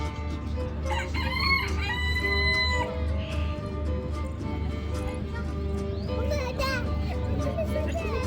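A rooster crows repeatedly among other birds at a park aviary in a Sharjah desert police park, the calls clear over a steady low background hum and scattered bird chatter.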